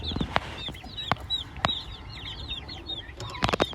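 Backyard chicks cluck and chirp continuously in a busy coop, with occasional wing flaps and sharp knocks scattered throughout.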